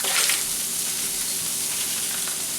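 Taco seasoning and a vegetable mix sizzle steadily in a hot pan, a loud, continuous hiss of frying with no voices.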